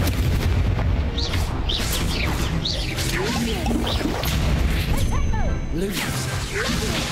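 Incendio fire spell cast in Hogwarts Legacy, set in the Forbidden Forest, as a burst of whooshing, crackling magic blasts with impacts repeating through a busy, continuous combat soundscape.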